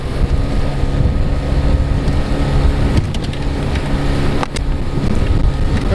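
An inflatable motorboat, a Bris 14.1, runs over choppy water with a steady, loud engine and hull rumble, rough wind buffeting and a few sharp slaps from the waves, continuous throughout with no talking.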